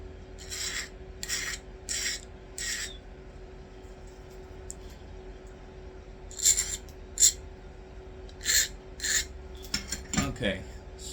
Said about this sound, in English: Now maybe a good time to go ahead and sharpen my flaker